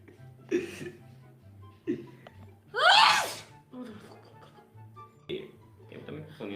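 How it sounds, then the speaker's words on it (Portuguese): A person on a gaming livestream goes through a sneezing fit: several sharp sneezes, one especially loud and explosive midway, with gasps and brief vocal noises between them. "Espirre mais e vá."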